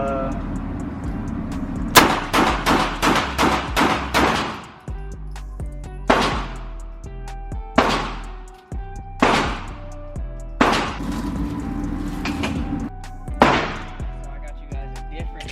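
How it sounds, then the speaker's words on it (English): A Glock 26 pistol fires a rapid burst of about seven loud shots at an outdoor range, followed by a pause and then single, widely spaced shots with sharp reports and short echoes. "It'll do a quick little mag dump of it just to end the video."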